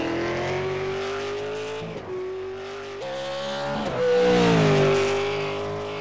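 A Venom Series race car engine howls at Bathurst, holding a high pitch, dropping on a downshift, then rising again under hard acceleration, loud and close throughout.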